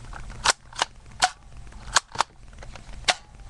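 A modified Nerf Sharp Shot blaster fires several sharp, snappy pops at irregular intervals, close and fairly loud, with quiet pauses between shots.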